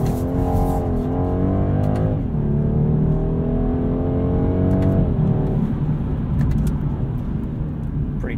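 A 2022 BMW 230i coupe with an 8-speed automatic pulls hard under acceleration, its engine note loud and close, rising in pitch, dropping at each upshift, then climbing again, droning steadily throughout.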